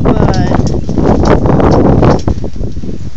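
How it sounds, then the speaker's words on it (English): Wind buffeting a microphone outdoors at a craft fair, with a loud, steady roaring rumble throughout and a voice speaking over it. "it's very windy out here"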